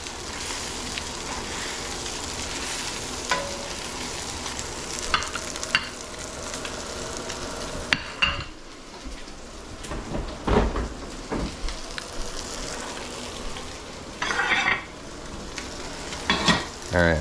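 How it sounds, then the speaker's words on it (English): Shredded pulled pork crisps in a hot pan with pork fat, giving a steady close sizzle broken by occasional scrapes and clinks of a metal spatula, with a brief pause and clatter midway. "And we're gonna let that meat just kind of crisp up a little bit."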